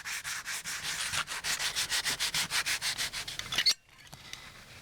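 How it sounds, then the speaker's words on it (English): Sanding resin-filled, repaired wood during a window seat build, a rhythmic run of about twenty quick back-and-forth rubbing strokes, close and steady, ending abruptly. "A final bit of sanding,"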